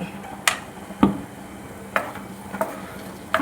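Tomato paste being stirred into prawn biryani masala in a pan, a quiet spoon scraping and tapping at a few scattered moments over a low sizzle, with no talking.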